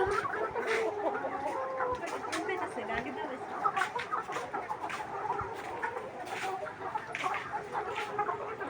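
Caged chickens cluck and make soft calls while eating their feed, with busy chatter from the flock throughout and faint pecking sounds in the background.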